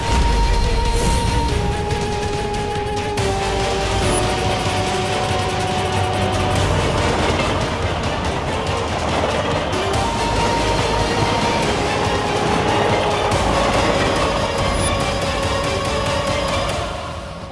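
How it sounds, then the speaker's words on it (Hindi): A train runs along rails at speed, a loud continuous rumble with a rolling metallic rattle heard alone and close throughout. "अब बस दोनों रेलों के टकराने में 500 गज की दूरी बची है।"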